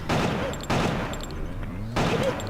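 Gunfire in the video game Killer7, loud bursts of rapid shots in two clusters with a short gap between, mixed with game sound effects.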